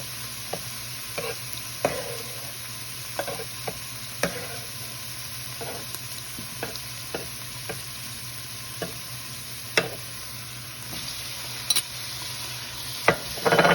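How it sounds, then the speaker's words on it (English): A large tomato with a heaped tablespoon of celery frying in a pan, giving a steady low sizzle with scattered soft clicks and stirring taps, fairly near and without talk. "And let this fry."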